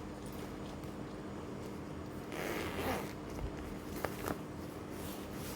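A handbag zipper is pulled open in one quick rasping stroke, close by and soft, followed by faint handling clicks.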